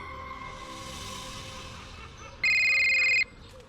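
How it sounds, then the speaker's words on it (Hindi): A shrill electronic phone ring sounds once, loud and close, about a second long, after a quiet stretch of soft background tone. "फोन की घंटी आज किसी चमत्कार की ओर इशारा कर रही थी"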